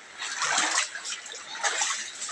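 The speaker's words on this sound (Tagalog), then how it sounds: "Ayan, napakalaki na ng baha dito sa amin. Ito, pinasok na kami ng tubig." Floodwater pours into a house kitchen at night with a steady rushing and splashing close by, swelling twice in brief surges, with no voices.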